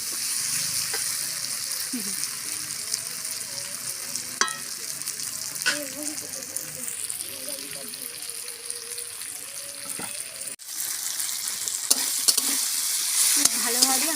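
Kadai shak greens fry in a pan with a steady sizzle and hiss, punctuated by scraping stirs and clinks, while a voice speaks faintly in the background.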